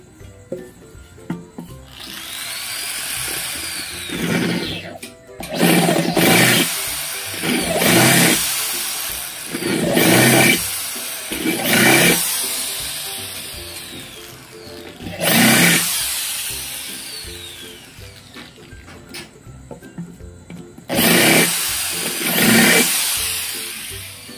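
Power drill chamfering a screw hole during fabrication of a used-oil stove, heard as repeated loud whirring bursts of a few seconds each, separated by short pauses.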